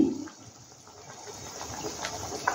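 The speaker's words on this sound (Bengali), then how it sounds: "জলটা আমি মিক্সি ধোয়া জলটা এর মধ্যে দিলাম" Mixer-rinse water poured into a pot of creamy, spicy Mughlai-style chicken curry cooked in milk, a soft steady watery wash that runs alone for a couple of seconds.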